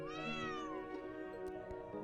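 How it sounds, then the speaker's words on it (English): A cat meows in the Tokyo Xanadu EX+ game, one drawn-out rising and falling call up close, followed by a few soft clicks and a steady background tone. "That cat phased out of the box."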